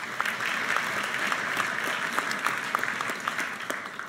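An audience at the University of Vienna claps steadily to welcome Austrian candidates for the 2019 EU election, the dense applause sustained throughout with no talk over it.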